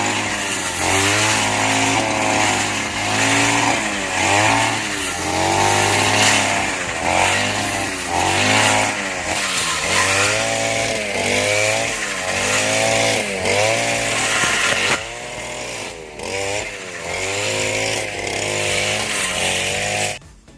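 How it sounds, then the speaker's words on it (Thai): Grass cutter engine running with a freshly sharpened blade, a loud buzzing two-stroke drone that surges and revs in repeated pulses, dropping briefly near the end, no speech. "ตัดหญ้าเสร็จแล้วเรียบร้อยคมขนาดครับ"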